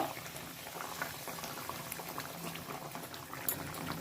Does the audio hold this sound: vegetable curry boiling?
yes